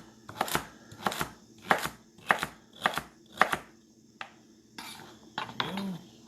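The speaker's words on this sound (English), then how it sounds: "So, what we're going to do is we'll just slice down the middle, down the middle, and then we'll make some nice bite-sized chunks." A knife chops vegetables into bite-sized chunks on a board, about seven sharp, evenly spaced chops up close, then a few looser clatters and a short scrape.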